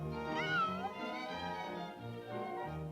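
A cat meows in a series of long, drawn-out, wavering cries, close and loud, while kitchen sounds continue behind it during French toast preparation.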